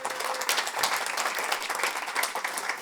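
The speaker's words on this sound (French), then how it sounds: "Est-ce qu'il y a des parents par applaudissement?" Parents in an audience at a comedy show applaud in a dense, steady burst of many hands clapping at once, loud and close throughout, with no talking over it.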